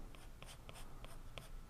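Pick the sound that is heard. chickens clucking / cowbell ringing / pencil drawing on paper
pencil drawing on paper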